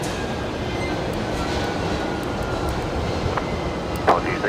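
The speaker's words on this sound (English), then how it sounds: "Listen to those engines." Jet aircraft engines rumble at Brisbane Airport during a cyclone evacuation, a loud, steady broadband roar holding constant throughout, with a brief faint voice near the end.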